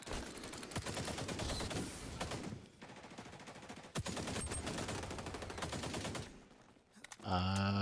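AK rifle fire in a Call of Duty match: sustained rapid automatic bursts, loud and close, with a brief pause midway and in-game effects near the end.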